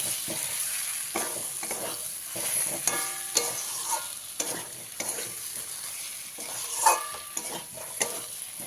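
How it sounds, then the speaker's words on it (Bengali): Fried potatoes stirred into sizzling spice masala in a pan, with a spatula scraping and tossing in irregular strokes over a soft, steady sizzle of oil, close and clear with no talking. "এবারে ভেজে রাখা আলুটা এর মধ্যে দিয়ে দিতে হবে দিয়ে খুব ভালো করে মিশিয়ে নিতে হবে"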